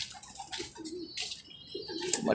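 A breeder cock pigeon with a pierce ring coos softly inside a sputnik trap, with a few low, brief coos and some faint wing and cage rustling close by.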